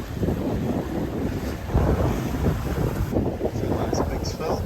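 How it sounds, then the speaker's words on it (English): A sailboat runs fast through rough seas on a passage from Cocos to Rodrigues, with steady wind roar across the microphone and rushing water and waves swashing close by, loud and continuous with no talking. "It was indeed a rough night, but with some fast sailing, as shown here the next morning."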